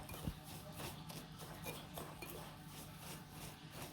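Wild garlic is stirred with salt in a bowl, giving faint, close clinks and scraping taps against the bowl with one sharper knock near the start.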